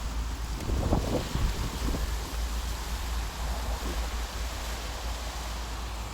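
Steady, strong wind on a cold day with some rain buffets the microphone throughout, a dense low roar with gusty swells in the first couple of seconds.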